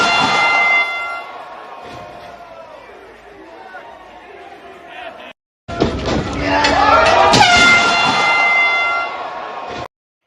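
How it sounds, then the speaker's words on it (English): Air horn blasts ring out over a chattering crowd at a GCW wrestling show during a Cage of Survival match, with sustained horn tones early on and a louder burst of crowd noise and cheering after a brief gap. "I love the air horn."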